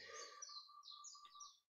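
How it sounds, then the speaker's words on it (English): Birdsong played back through a speaker: a thin, distant run of chirps and whistled notes, faint and alone, with no talk. "enjoying the sounds of birds through my speaker, my microphone"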